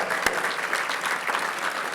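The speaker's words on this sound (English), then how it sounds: "So just one more round of applause for that" Audience applause at an annual Urban League dinner, a dense steady wash of many hands clapping throughout, fairly loud and close with a single sharper clap near the start and no talking over it.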